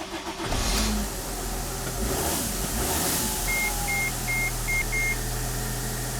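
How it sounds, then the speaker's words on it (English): A Mercedes/Dodge Sprinter van with a boost pressure regulator fault (code 2510) cranks and starts, then settles into a loud, steady idle close by, while a short run of electronic beeps sounds partway through. "Let me start the engine."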